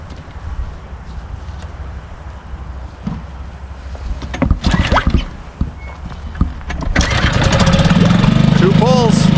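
A Mercury 90 hp outboard motor with command thrust is pull-started after winter storage: several sharp cranking pulls and sputters, then the engine catches and runs loud and steady near the end, with someone talking over it.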